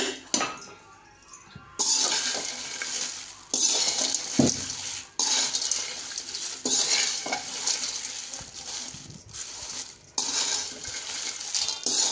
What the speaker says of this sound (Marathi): नॉर्मल तेलाची धार टाकायची.